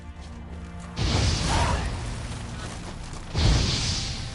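Igni fire sign cast in The Witcher 3: two loud whooshing, roaring fire bursts, the first sustained for about two seconds and a second shorter blast following, close and full over a quieter game background.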